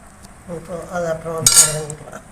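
Drumstick leaves (murungai keerai) being mashed in a clay pot, giving close, irregular scraping and knocking strokes with a sharper clink near the middle.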